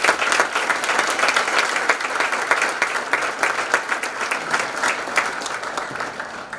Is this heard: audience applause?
yes